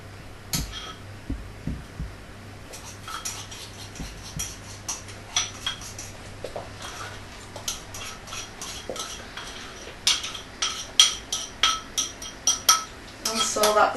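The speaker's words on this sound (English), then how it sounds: "Gently stir all that all together." A spoon stirs a cake batter of eggs, flour, brown sugar, cinnamon and nutmeg in a bowl, giving repeated soft clinks and scrapes against the bowl that grow faster and louder toward the end, with occasional quiet talk.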